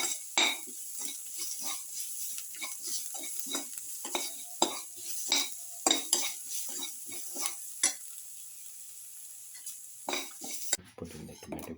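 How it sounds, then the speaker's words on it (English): Ingredients for cumin carrot rice soup stirred and sautéed in a pan, with a steady sizzle under repeated scraping and clinking of a utensil against the metal, close and busy throughout. "Thoroughly saute this."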